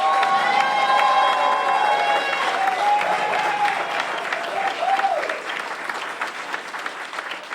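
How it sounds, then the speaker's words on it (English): A graduation audience applauds loudly for the Houston Health CRNP graduates, steady dense clapping with some cheering that slowly eases, while music plays over it near the start. "help me to give them a very loud round of applause"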